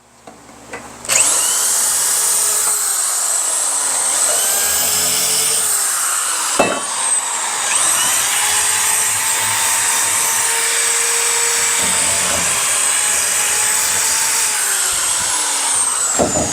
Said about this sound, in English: I'm gonna start putting them on while drilling the holes while she bolts them on